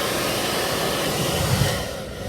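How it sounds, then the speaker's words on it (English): A hair dryer blows steadily over a watercolor landscape painting, a continuous close, airy whir with a slight rise in force just before the end. "What I did use is a hair dryer."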